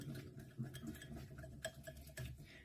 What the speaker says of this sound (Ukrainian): Розмішую. Роблю таку емульсію.